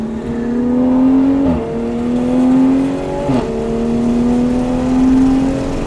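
A Toyota GR Supra on a race track in manual mode, its engine a loud steady drone that climbs through the revs, dips briefly at two gear changes and climbs again, heard from inside the car.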